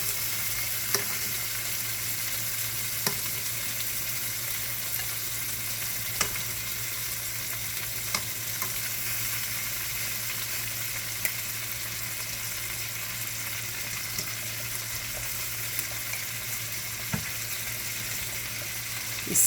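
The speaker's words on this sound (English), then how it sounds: "So when you fry one part, I'm going to flip them over." Shrimp frying in butter in a pan, a continuous soft sizzle with a low steady hum beneath and occasional sharp clicks and pops, heard alone without talk.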